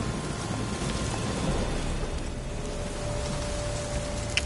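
Storm rain in The Witcher 3: Blood and Wine, a steady broadband hiss of falling rain with faint low rumble and a thin tonal whine, continuous at moderate level with no talk.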